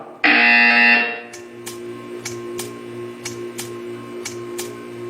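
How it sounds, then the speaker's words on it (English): A loud harsh buzzer blares for about a second in the Portal 2 video game, then a quieter rhythmic pulsing hum follows with regular ticking clicks roughly every half second. "You will hear a buzzer. When you hear the buzzer, stare at the art."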